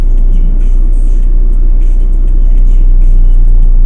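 A car drives along, heading out for servicing; its steady engine rumble and road noise hold at a constant loud level throughout, with no talk.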